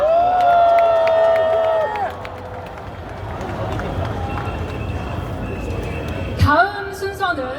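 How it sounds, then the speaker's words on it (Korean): Large outdoor rally crowd at a national protest gathering roars and cheers loudly, a sustained wash of shouting with whistle-like tones, easing after two seconds into a lower murmur before another burst near the end. "다시 한번 큰 함성 부탁드리겠습니다"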